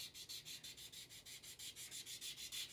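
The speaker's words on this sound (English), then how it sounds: "I'm not applying a lot of pressure, just going really lightly, scuffing it down." Light, rhythmic sanding strokes on a resin model car hood, about a dozen quick back-and-forth scuffs at an even pace, soft and close with no talking.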